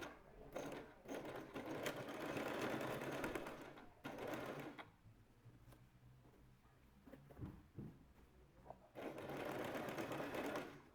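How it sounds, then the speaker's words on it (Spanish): A sewing machine stitches a trouser seam at a one-centimetre seam allowance, whirring steadily in two long close-up runs with a quieter pause between them. "Vamos cosiendo por el centímetro de margen de costura y cuando lleguemos a la marca le damos una puntadita"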